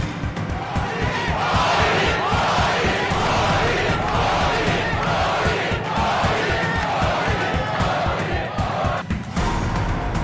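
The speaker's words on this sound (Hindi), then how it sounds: "मोदी मोदी के नाम से सारा स्टेडियम गूंज रहा था।" A packed stadium crowd in Berlin cheers and rhythmically chants a two-syllable name in steady repeated beats, loud and continuous for about ten seconds.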